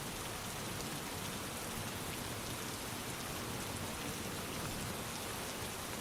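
Steady rain pours down in a dense, unbroken hiss of countless drops, even and moderately loud throughout, with no voices or other sounds.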